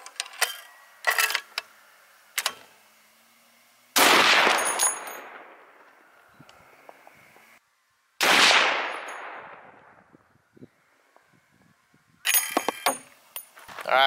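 Two .338 Lapua rifle shots fired outdoors while sighting in a Vortex Diamondback tactical scope, each a loud sharp blast with a long rolling echo, separated and followed by lighter metallic clicks and handling noises.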